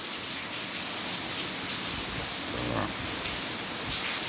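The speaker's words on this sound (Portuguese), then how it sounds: "E está chovendo, começou agora." Light rain just beginning in northeastern Brazil under an overcast sky, falling steadily as a soft, even hiss with dripping from leaky roof spots and gutters, close by and without talk.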